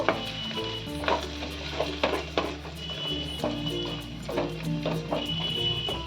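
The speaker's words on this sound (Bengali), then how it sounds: "এবার আমি সমস্ত মশলাটাকে দিয়ে এটাকে ভালো করে নেড়ে নেব" A spoon scrapes and stirs a sizzling vegetable-roll filling of winter vegetables with amchur powder and black pepper in a hot pan, with steady frying and repeated clattering strokes close by.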